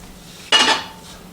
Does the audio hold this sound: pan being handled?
yes